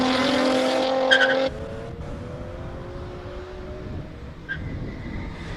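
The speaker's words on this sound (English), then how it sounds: "Marius Draper currently on your screens in his BMW 330i" A 2006 BMW 330i E90 with a normally aspirated six-cylinder engine racing up a hillclimb course in Cape Town, its engine note loud and rising, then dropping as it shifts and pulls away into the distance.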